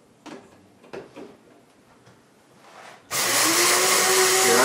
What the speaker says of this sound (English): I'm grinding flaxseed over here, and I grind it till it's very fine